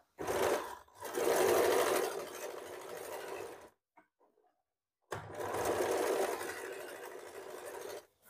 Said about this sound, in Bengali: এখানেও একটা আমরা সেলাই দিচ্ছি